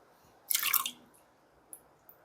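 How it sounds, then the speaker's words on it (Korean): Cucumber rinsed in water in a kitchen: one short splashy rush of water, then a couple of faint drips and taps in a quiet room. "오이를 한번 헹궈 보겠습니다"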